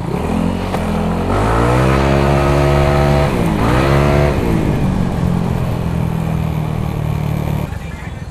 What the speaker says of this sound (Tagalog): Kita nyo naman yung acceleration nitong Aerox na to mga sir no.